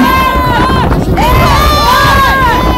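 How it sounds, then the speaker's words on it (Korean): A crowd at a Korean political rally cheers and shouts over steady applause, a dense, loud wash of voices with some higher shouts rising through it. "다시 한번 박수해 주시기 바랍니다."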